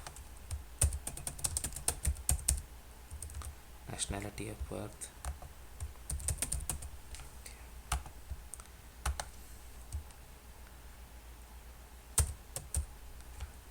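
Clicky computer keyboard typing while an online visa application form is filled in: quick irregular bursts of keystrokes, fairly close, mixed with a person talking.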